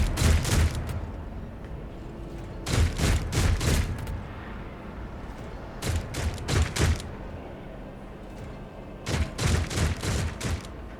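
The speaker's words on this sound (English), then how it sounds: "I think they're shooting something." Bursts of gunfire crackle in Warhammer 40,000: Rogue Trader, four separate volleys of rapid shots spaced a few seconds apart over a low background hum.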